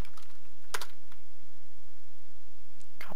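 Keystrokes on a computer keyboard during a Minecraft session: a few sparse, quick clicks with a short burst near the start and another at the end, over a quiet background hum.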